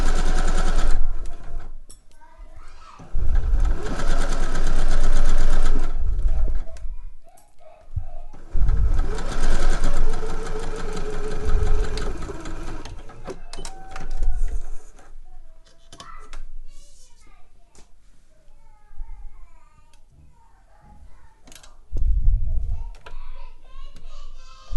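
A sewing machine stitches buttonholes for trousers in long rapid mechanical bursts, close and loud, separated by pauses with small clicks and handling noises.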